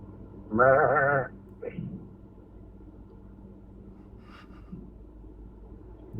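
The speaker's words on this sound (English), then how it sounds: "it sounds like you're being a sheep" A sheep-like bleat comes through a phone call, one wavering, nasal cry about a second long over a low line hum, followed by faint scattered noises.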